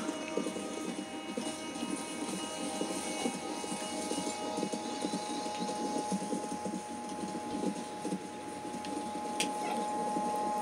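Two horses walk at an easy pace in the video game Red Dead Redemption 2, their soft hoof falls faint against a steady outdoor ambience with faint bird sounds and no talking.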